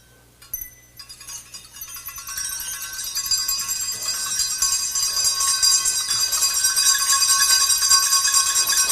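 An old servant's bell rings continuously, a bright metallic jangle that starts faintly, then swells and stays loud and sustained, shimmering with rapid repeated strikes.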